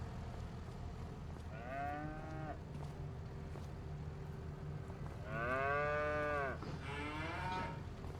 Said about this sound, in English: so of course there's two cows sitting right here